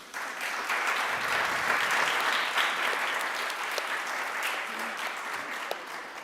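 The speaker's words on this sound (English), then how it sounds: "A round of applause for them" Audience at a conference panel on the information crisis applauding the panelists, a swell of steady clapping that builds quickly and then slowly thins toward the end.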